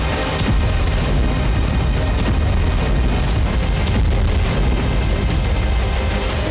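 Continuous loud, rumbling booms from a Ukrainian drone strike on a Russian airbase roll on with dense low roar and scattered sharp cracks, like distant explosions blurred together.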